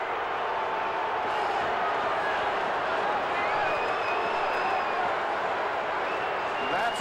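Steady, dense roar of a large football stadium crowd at a 1979 New York Giants versus New Orleans Saints game, continuous and loud throughout with cheering swelling and faint whistles over it.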